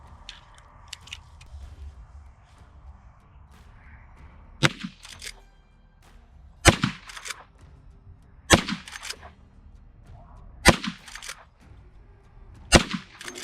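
Six sharp gunshots from high-velocity .357 revolver rounds fired outdoors, each a loud crack at roughly two-second intervals, with faint handling noise between.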